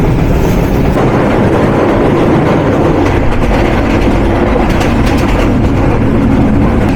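Inside the Nilsagar Express moving on its Dhaka to Ibrahimabad run, a loud, continuous rumble of the carriage rolls on, with rattling and faint wheel clicks over the rails throughout.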